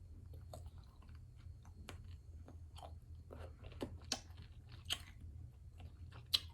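Crunchy mango being bitten and chewed close to the mouth, a steady run of wet crunches and sharp bites over a low background hum, loudest toward the end, with no talking.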